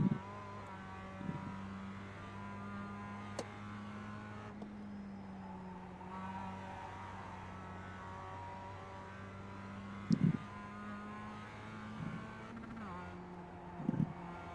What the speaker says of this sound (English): throw this car through the turns, really get back on the throttle